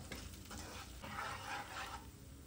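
Dry stirring and scraping of gram flour roasting in a pan with a soft sizzle, steady and close, no voices.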